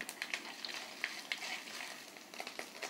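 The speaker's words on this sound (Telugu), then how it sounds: "ఈ మినప్పప్పు అండి, ఈ శనగపప్పు కూడా, ఇవి కొద్దిగా యాగనిద్దాము" Urad dal and chana dal fry in hot oil for lemon rice, a faint, steady crackle with small pops scattered throughout, heard alone with no talking.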